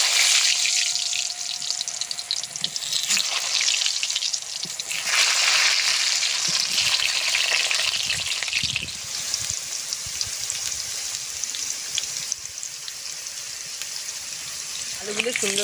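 Potatoes for a goat meat curry fry in hot mustard oil in a kadai, giving a loud, broad hissing sizzle that swells and eases in waves, close by and without speech.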